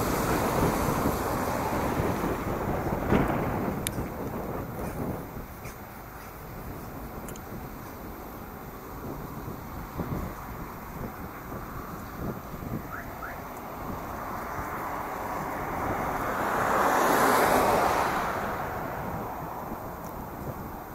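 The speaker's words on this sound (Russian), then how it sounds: "Холодно, вот ветер, сильный довольно ветер" Strong, cold wind gusting across a city bus stop on a winter street, a steady broadband roar for the whole stretch that swells louder near the end, with no talking.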